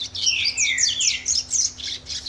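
A caged coleiro, the double-collared seedeater, sings a rapid run of bright, high whistled and chirping phrases, close and clear over a faint steady electrical hum.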